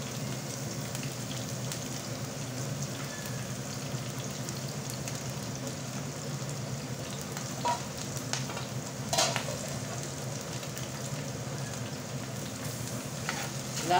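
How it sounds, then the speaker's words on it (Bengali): Chopped onions and green chilies fry in hot oil with a steady, rain-like crackling sizzle throughout and a few faint scrapes of a spoon toward the end. "পেঁয়াজ মরিচটা ভেজে নিচ্ছি"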